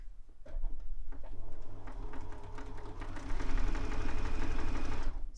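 A sewing machine stitches a seam on a fabric notebook pouch, giving a steady, close mechanical whirr with rapid needle clatter that speeds up partway through and then stops.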